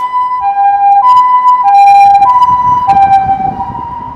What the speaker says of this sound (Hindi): फिर से जा रही है यहाँ पर एम्बुलेंस।